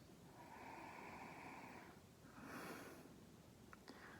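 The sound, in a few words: sniffing 100 Bushels whisky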